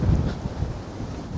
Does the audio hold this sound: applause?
no